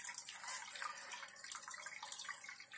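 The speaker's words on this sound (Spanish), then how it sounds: "acabar de rellenar lo que nos falta de acuario con agua de osmosis" Osmosis water pours steadily into a home aquarium as it is topped up, a continuous bright splashing and trickling that runs unbroken and fairly close, with no talking.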